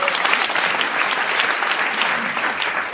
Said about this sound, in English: So the audience applauds